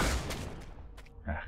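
Gunfire in the video game Deathwatch: Tyranid Invasion: short, muffled bursts of shots at the start and again near the end, with a noisy lull between.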